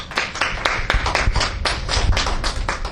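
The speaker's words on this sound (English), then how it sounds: "let's give Madam Agnes Kamara a big round of applause for what she has been doing for us as mother" A small audience claps for a woman honored at a talk on women's experiences with autism, giving sparse, uneven individual claps with distinct sharp taps rather than a dense roar, fairly close and alone.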